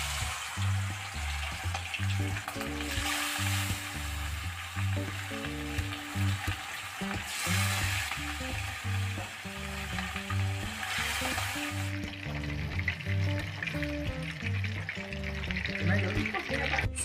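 Chicken pieces frying in hot oil in a pan for chicken roast, giving a steady, loud sizzle throughout with some faint background music and no speech.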